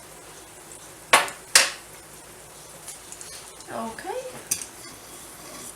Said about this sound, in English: Just stir it up in a little bit